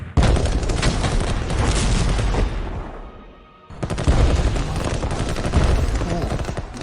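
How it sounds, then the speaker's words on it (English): Turkish artillery firing in the WW1 strategy game Strategic Command: two loud, dense bursts of booming fire, the second following a brief lull after the first fades. "Oh, Turkish artillery. I knew he had some."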